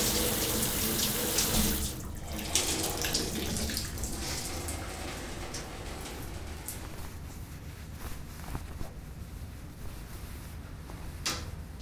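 Shower water runs steadily in a bathroom, a continuous close splashing hiss with a few faint clunks and bumps scattered throughout; no one speaks.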